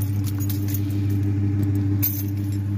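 A car key fob jangles close by, bright metallic clinks over a steady low engine hum inside a dream car, the rattling continuing through the moment with a slightly sharper shake near the end.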